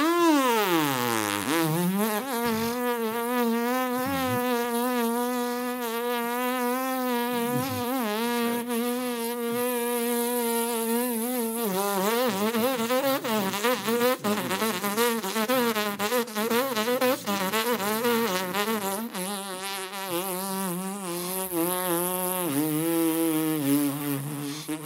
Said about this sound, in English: keep your chops buzzing like that